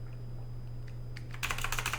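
Quick bursts of keystrokes on a computer keyboard, faint at first and then a dense, close run of clicking taps over a low steady hum.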